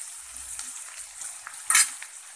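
Chopped tomatoes frying in a pan after onion, garlic and ginger, a soft high hiss with light stirring scrapes and a brief louder clatter near the end, no voices.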